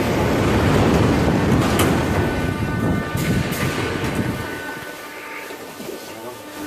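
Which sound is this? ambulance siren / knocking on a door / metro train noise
metro train noise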